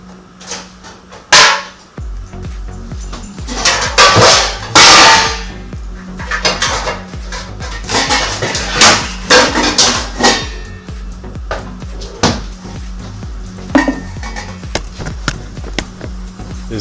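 Metal pans pulled from a kitchen cabinet, a run of loud sharp clanks and knocks at irregular intervals over a low steady hum, some hits ringing briefly, no talk.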